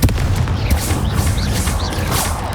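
A Confringo blasting spell detonating in Hogwarts Legacy, heard as a rumbling, crackling explosive roar with heavy low boom and whooshing magical streaks above, loud and continuous throughout.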